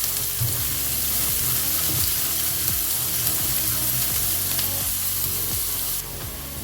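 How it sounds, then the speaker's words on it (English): Chopped onions frying in hot oil for paneer samosa filling, a loud continuous sizzle with rhythmic stirring scrapes throughout, close and with no talking. "Now we're going to add onion. You see the oil is also hot. Nicely cook the onions."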